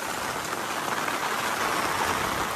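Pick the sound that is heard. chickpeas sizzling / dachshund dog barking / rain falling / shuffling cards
rain falling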